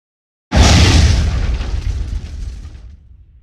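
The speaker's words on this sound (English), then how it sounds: "Explosions and guns going off, footsteps and vehicles passing by now really feel different." A single heavy explosion in the World War II shooter game Hell Let Loose, a sudden deep boom bursting in loud and close, then a long rumbling tail that fades over several seconds.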